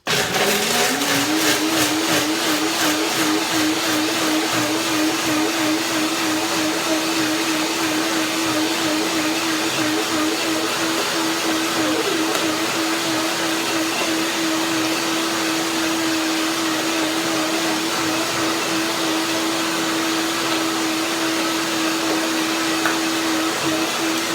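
A blender whirs loudly and continuously at a steady high pitch, blending cashew mayonnaise, running without pause for the whole stretch with no talking.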